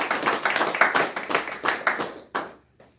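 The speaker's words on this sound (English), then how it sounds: "Let's give our brother ministers, brother major, brother ministers, and brother spoken another round of applause" Audience applause at a temple service, a dense run of hand claps from a crowd that thins out and stops near the end, fairly close and on its own.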